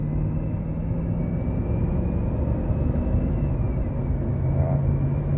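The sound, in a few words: GMC engine running after valve lifter repair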